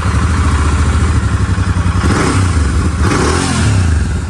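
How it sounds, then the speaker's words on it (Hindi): Stock exhaust on a Royal Enfield GT 650 twin, running steadily with a deep, close engine drone, swelling briefly with two light revs partway through before settling back. "इस देखिए ये रहा स्टॉक का साउंड। आपको स्टॉक का साउंड सुना देते हैं।"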